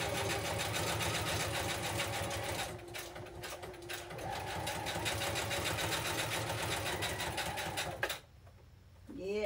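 A foot-pedal sewing machine stitches fabric in rapid, steady bursts, running loud and close for about eight seconds before stopping abruptly, leaving a quiet room.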